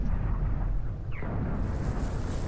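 A tank cannon shot in the World of Tanks video game, fired from a Sexton II on Xbox 360, heard as a loud, booming blast with a rumbling tail over constant engine noise, with no talk.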